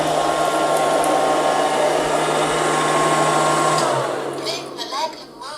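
A Liectroux B3000 robot vacuum cleaner whirring steadily up close as it picks up leftover debris, a constant motor hum that drops off near the end as it moves away.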